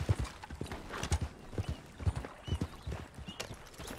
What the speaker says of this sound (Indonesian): Mengkilat kuda kita